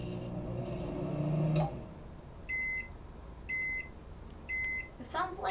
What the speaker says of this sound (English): It sounds like a microwave. Yeah, that's what it is. Microwave finishing.